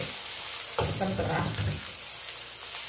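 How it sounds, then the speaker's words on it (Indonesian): Rice vermicelli stir-frying with seafood in a pan, a steady sizzle with stirring and scraping bursts that swell midway, close and fairly loud, with a brief spoken word. "Kita tumis sampai dia harum."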